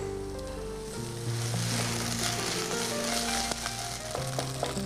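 Ginger garlic paste sizzles in hot oil in a pan with a soft, steady crackle, fairly quiet, with faint background music underneath.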